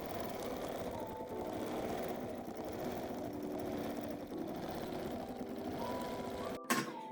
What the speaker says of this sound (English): I'm ready to start sewing and quilting